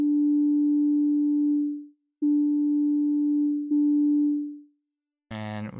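Synth oscillator in Ableton Live 11 with pressure mapped to wavefolding: three sustained steady tones with a faint upper partial, each swelling and fading out, separated by short gaps, followed by a brief burst of brighter, harmonically rich sound at the end.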